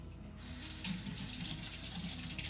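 Tap water gushes steadily as coconut husk is rinsed off at a sink, a loud close continuous stream that starts abruptly and runs unbroken, no speech.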